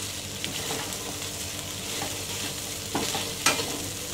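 Chicken with red chilli and Kashmiri chilli powder sizzles in a pan as it is stirred, a dense, fairly loud frying hiss with a few sharper scrapes and clinks of the spoon near the end.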